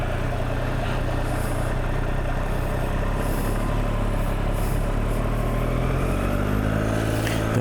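A Triumph Daytona 765 Moto2 Limited Edition motorcycle ridden slowly, its engine giving a steady low drone with a slight rise in pitch near the end.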